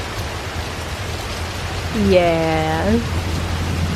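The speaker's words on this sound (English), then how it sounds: "I knew it was about to start pouring." Rain begins pouring outdoors while someone shelters under a tree at a theme park, a steady broadband hiss with a low hum beneath and one short spoken word near the middle.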